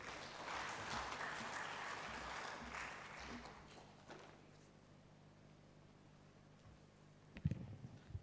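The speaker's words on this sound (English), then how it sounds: "We need to give him another round of applause." Audience applause for a professor after his talk at a national communications conference, a broad wash of clapping that fades after a few seconds, with a few sharp knocks near the end.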